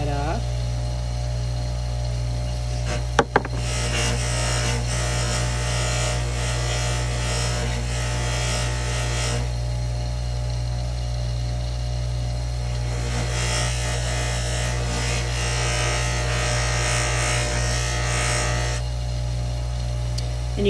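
A sterling silverware bracelet with an opal inlay being buffed by a motor-driven buffer, which hums steadily throughout. Two long stretches of harsher buffing contact ride over the hum, with a sharp click near the start.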